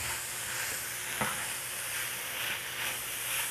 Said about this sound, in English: We're going to get this all stirred up.